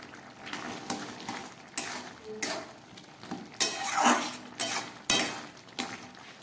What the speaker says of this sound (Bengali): সেখান থেকে 1 চামচ মশলা আমি দিয়ে দিচ্ছি